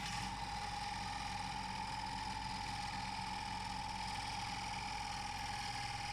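A wood lathe spins at 1400 RPM while turning a bowl, giving a steady, unbroken mechanical hum with a constant whine that holds at the same level throughout, with no voices.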